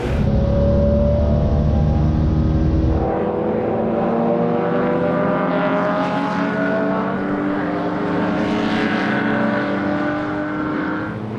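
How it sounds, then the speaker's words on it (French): Classic racing cars lapping in a pack at the Dijon-Prenois circuit during Tour Auto 2019, a loud close engine roar that drops away and gives way to several engines whining and revving at varied pitches. "les concurrents se sont retrouvés à Dijon-Prenois pour des courses en peloton"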